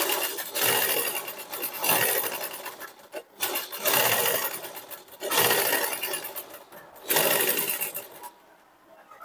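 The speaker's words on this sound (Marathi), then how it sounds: "आता शिलाई मारून दाखवते।" A sewing machine stitching a blouse katori runs in loud whirring bursts of rapid needle strokes, stopping and restarting several times close by, with no speech.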